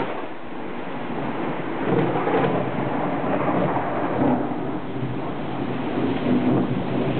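Thunderstorm with heavy rain in Nashville: a dense, steady roar of rainfall with low rumbling thunder rolling through, loud and continuous for several seconds, with no talk.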